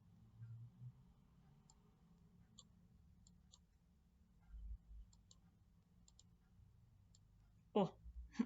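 Computer mouse clicking while selecting and placing a square on screen, a scatter of faint, brief clicks spread across the stretch over low room hum, with a couple of louder bumps near the end.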